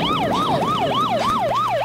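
A police car siren wails in a steady, rapid rising-and-falling cycle, loud and continuous throughout.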